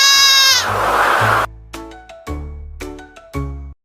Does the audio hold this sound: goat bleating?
yes